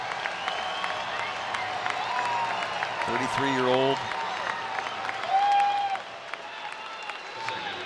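Baseball crowd at Coors Field gives Freeland an ovation for his 1,000th career strikeout, a steady wash of applause and cheering filling the ballpark while a broadcaster talks over it.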